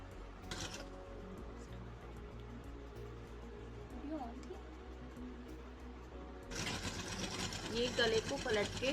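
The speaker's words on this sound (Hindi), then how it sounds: "ये गले को पलट के हमने कपड़े पे सिलाई लगा दी है।" A sewing machine runs in short bursts while stitching the turned-over neck of a blouse, a soft mechanical whir that grows louder and busier toward the end, with a voice speaking over it.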